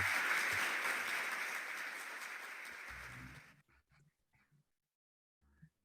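A round of welcoming applause from a conference audience, a broad steady patter that fades gradually and stops abruptly, leaving a few faint stray sounds.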